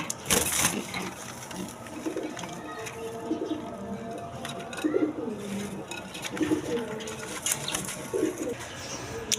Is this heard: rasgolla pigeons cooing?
yes